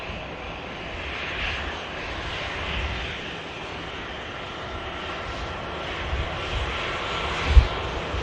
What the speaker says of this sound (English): Lufthansa Star Alliance taxiing past